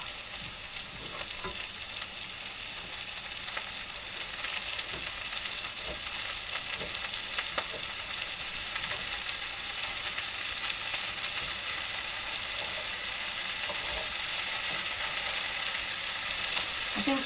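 Pork pieces brown in a hot pan, a continuous dense sizzle and crackle lasting throughout with occasional small pops and stirring scrapes, close and fairly loud.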